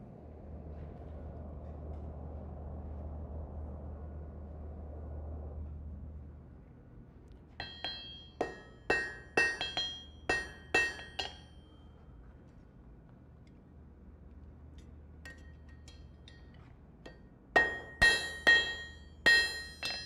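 Blacksmith hammering metal at a smithing conference: two bursts of sharp ringing hammer blows on hot steel, about six strikes then a pause, then another rapid run of four or five clanging strikes, close and loud over a low rumble.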